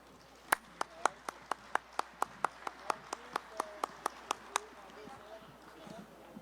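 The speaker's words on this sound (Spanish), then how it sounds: "un aplauso para ella" Clapping at a national and international congress on Ayacucho music: about seventeen sharp, evenly spaced claps in a quick steady rhythm, moderately close, then tapering into quiet room noise.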